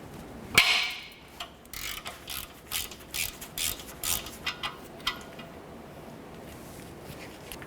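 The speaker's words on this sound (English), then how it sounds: "There's a bolt here and one on the other side identical, 14mm socket. Break it free." Ratchet wrench with a 14mm socket breaking loose a bolt on a 2006-2012 Toyota RAV4 exhaust manifold and catalytic converter, one sharp crack followed by a series of close, rhythmic clicking ratchet strokes, no voices.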